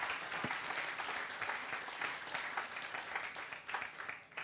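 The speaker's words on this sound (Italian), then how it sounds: "un altro applauso a buon Andrea" An audience applauds after a talk about making a videogame, a steady, fairly distant wash of many hands clapping that carries on evenly throughout.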